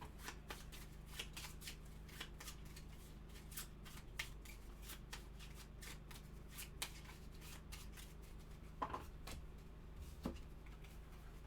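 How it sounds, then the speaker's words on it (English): A deck of cards from the golf board game Duffers is shuffled by hand, a long run of quick riffling flutters and soft taps. The sound is close and quiet, with no talking over it. "I have to shuffle again."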